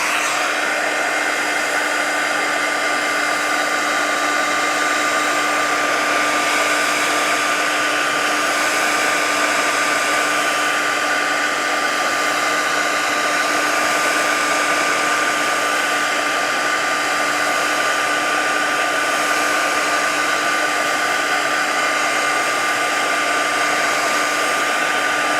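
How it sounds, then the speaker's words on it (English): A craft heat tool blows hot air in a steady, loud, unbroken whine with a constant motor hum for the whole stretch, no voices over it. "Okay, this is my heat tool."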